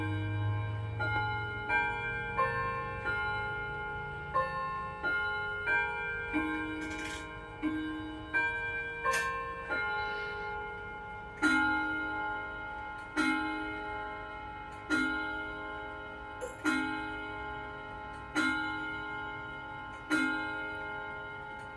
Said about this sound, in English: So I'm going to do the Westminster chime, just the full chime on the hour here.